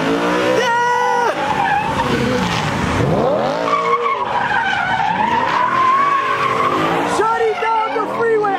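A Lamborghini and a Rolls Royce spin donuts on a freeway, tires skidding and squealing loudly over revving engines, with a crowd shouting and cheering throughout.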